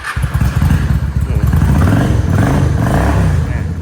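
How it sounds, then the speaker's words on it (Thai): A Honda Shadow 400 Classic motorcycle engine starts and settles into a loud, close, steady idle with a thumping, lumpy rumble and some mechanical clatter. "เดี๋ยวสตาร์ทให้ฟังเสียงเครื่องยนต์นะครับ"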